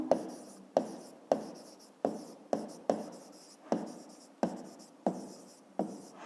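Handwriting on paper during a fifth-grade math exercise: about nine short bursts of pen scratching, each starting with a tap and trailing off, close and fairly quiet, no talk.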